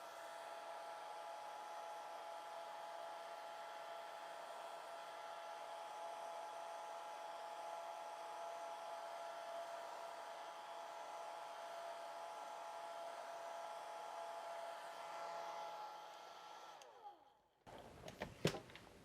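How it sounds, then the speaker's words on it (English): Hair dryer blowing over a fresh watercolor wood duck painting, a steady close whirring drone that runs evenly for most of the time before switching off, followed by brief clattering handling noise. "So take your hair dryer."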